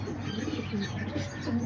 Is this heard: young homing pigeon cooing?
yes